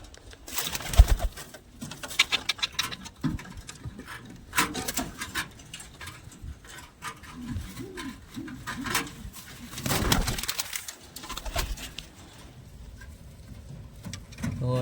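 Soft, low pigeon cooing recurs through the clip from a nesting pigeon, mixed with rustling, fluttering and a few louder bumps nearby.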